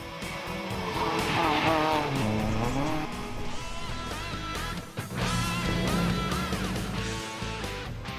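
A rally car at full effort on a national championship stage, engine revving hard and shifting through gears with tyre noise, loud and continuous throughout.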